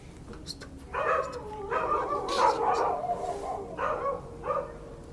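Several dogs bark and yip at night in a forest, a few bursts of barking at middle distance with short pauses between them over a faint background hiss.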